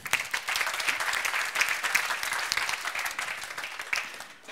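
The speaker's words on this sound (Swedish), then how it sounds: "Vi börjar med en applåd till Karin, tycker jag." Audience applause at a Swedish conference talk on mobile broadband, a steady wash of many hands clapping for several seconds, fairly loud and continuous with no speech over it.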